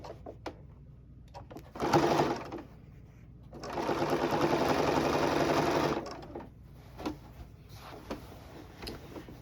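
A home sewing machine stitches binding onto a quilt, running in two short bursts, a quick one and a longer steady whir, with light handling clicks and rustles between the runs.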